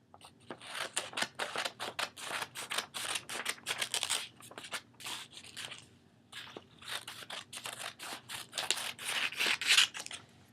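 Scissors cutting paper to shape parts for a homemade paper gun, a close series of crisp snipping bursts that come in quick runs with a brief pause midway.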